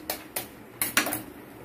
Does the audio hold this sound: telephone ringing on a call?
no